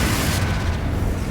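A Confringo spell explosion in Hogwarts Legacy makes one loud, deep blast with a bright initial burst that quickly settles into a rumbling low decay, close and alone.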